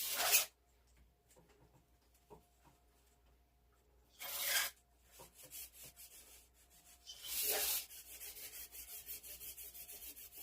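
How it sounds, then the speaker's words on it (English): Bursts of scrubbing with a light abrasive pad clean rust off a Ford 351 Windsor engine cylinder head, three loud rasping strokes separated by quiet gaps filled with faint scraping and rubbing. "I'm just going to scrub this, with a very light abrasive to clean this head area off"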